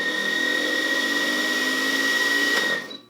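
A blender runs at a steady high whine while powered through a hot dog wired into its circuit, loud and continuous for about three seconds before winding down abruptly at the end.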